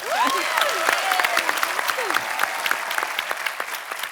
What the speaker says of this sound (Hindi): हमारी भाभी के लिए जोरदार तालियां